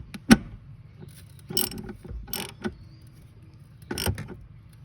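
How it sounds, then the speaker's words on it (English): A socket ratchet gives a nut a final tightening with a handful of separate sharp clicks and creaks spaced out over a few seconds, close and moderately quiet. "we can grab our socket to give it that final tighten"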